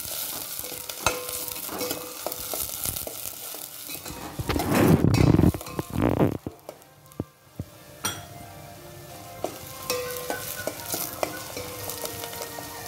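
Dry potato dish being stirred with coriander mixed in, a low sizzle under repeated spoon clinks and scrapes against the pan, with a louder stretch of busy scraping near the middle, close and unspoken.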